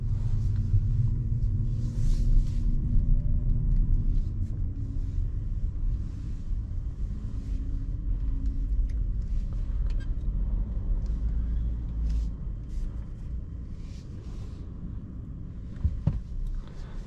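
A 2023 Renault Captur E-Tech sits in a big garage in Zagreb before departing, a low steady rumble filling the enclosed space with faint scattered clicks and knocks above it.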